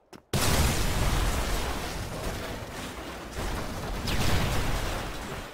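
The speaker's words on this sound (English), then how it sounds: "use your remote charges and take down that big structure right there" Remote charges detonate and bring down a large structure in the game Red Faction Guerrilla, opening with a sudden loud blast and followed by sustained rumbling, crashing debris and a second surge of destruction.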